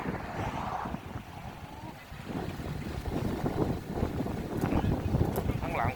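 Strong wind gusts buffet the microphone at a seaside fish market, a steady roaring rush that rises and falls, while someone talks over it throughout.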